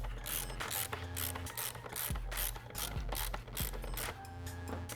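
A ratchet wrench tightens the tailpipe and muffler hanger bolts of a Yoshimura R-77 full exhaust on a 2014+ Yamaha FZ-09, clicking in close, repeated bursts with short pauses between strokes.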